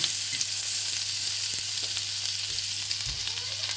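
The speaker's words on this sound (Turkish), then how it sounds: "yumurtamı döküyorum şimdi" Beaten eggs hiss and crackle in a pan with a little butter while making an egg toast, a steady close sizzle running throughout, with a low hum underneath and a few faint clicks of stirring.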